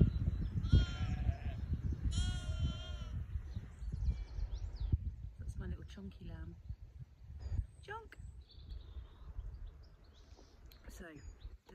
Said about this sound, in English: We've got some new lambs in the field.